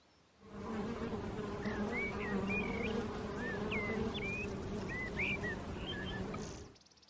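Honeybees buzz in a steady, dense drone throughout a beekeeping session, close and continuous, with faint bird chirps scattered above the hum.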